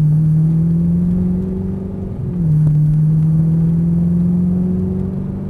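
An Audi R8 supercar at an exotic car ride attraction in Cancun accelerates gradually, its engine a loud, steady close drone that dips briefly midway and then holds on, with no voices.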